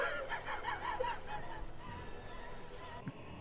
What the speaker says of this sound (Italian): Senti le galline.